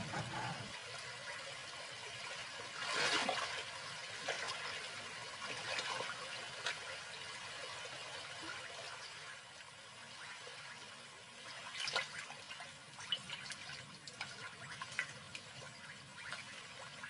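Lions wade through the water of a channel, stirring up a continuous sloshing and splashing with a few stronger surges, moderately close and without voices.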